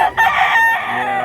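A single close, loud rooster crow rings out clearly over a market where sellers bring chickens, lasting about a second with faint background noise and no talk.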